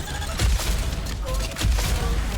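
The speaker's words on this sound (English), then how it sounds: "Chuck some grenades." Grenade blasts and gunfire rattle through a fast first-person shooter session in DEADLINK, with dense booms and bursts in a continuous, loud stretch under a speaking voice.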